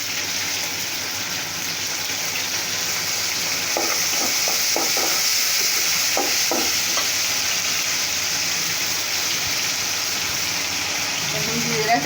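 Onion, salt, turmeric and garlic sizzle steadily in hot oil in a pan for a fish bhuna, with a spoon scraping and stirring through the middle; the frying hiss stays loud and close throughout.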